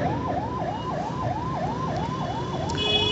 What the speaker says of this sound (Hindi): अब साइड ले ले भाई, एम्बुलेंस आ रही है